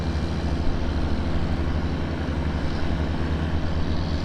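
A tractor packing a corn silage pile gives a continuous low engine rumble with steady broadband machinery noise, heard from a moderate distance with no voices over it.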